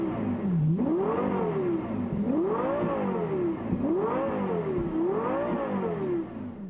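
A Lexus LFA's high-revving V10 is blipped repeatedly, its sharp wail climbing and falling in about three quick rev cycles, loud and close with no talking.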